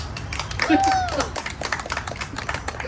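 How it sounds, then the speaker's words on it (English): A live audience at a spooky storytelling show gives a short burst of applause on request, scattered claps close by under overlapping voices. "Forced applause."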